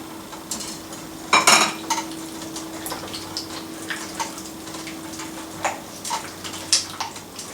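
Chickpeas and potato pieces drop into a cooking pot for a chickpea and potato curry, starting with one loud clattering tip-in and followed by scattered lighter clinks and scrapes of a utensil against the pot.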